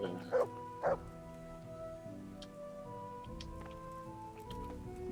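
A dog barks twice in quick succession in the video game Kingdom Come: Deliverance, short, close yaps over a soft game music bed with faint ticking.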